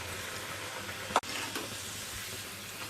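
Bitter gourd chips fry in a pan of oil, giving a steady soft sizzle and hiss that runs throughout, broken by one brief sharp clatter near the middle.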